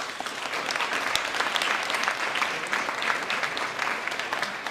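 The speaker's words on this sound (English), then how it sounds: "So round of applause for our teachers." A school district meeting audience applauds its teachers, a dense, even patter of many hands clapping throughout, moderately loud and close, with no one speaking over it.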